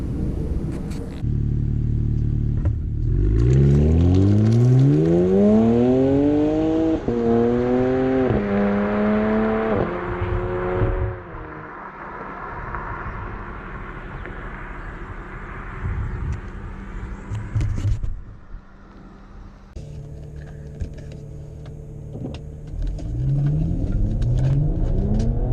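A BMW 335is drives on the road, its engine climbing through several loud gears with rising pitch, then settling into a steady cruising rumble with tire and wind noise before accelerating hard again.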